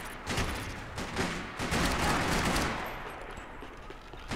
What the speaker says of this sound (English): No one can survive my dual pistols.